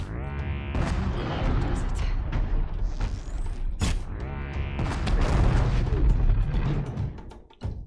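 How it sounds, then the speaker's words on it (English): Ravager's cannon firing in Horizon Zero Dawn, a video game: heavy booming blasts with a mechanical whine and grinding machine noise, loud and sustained, one sharp crack near the middle. "Kill two machines with the Ravager's cannon"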